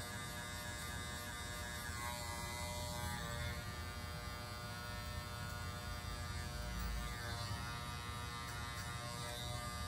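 Electric hair clippers buzz continuously during a skin fade haircut, a steady close mechanical hum that runs unbroken throughout with no speech.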